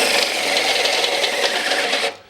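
A Christmas tree step drill bit bores through sheet metal in a car's engine bay during a 2JZ Z32 build, a steady loud grinding rasp that runs without a break, then suddenly cuts off near the end.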